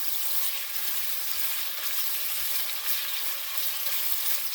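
Beef liver frying in oil with garlic and seasoning, a steady close sizzle and crackle that holds throughout, with faint low knocks from the pan underneath.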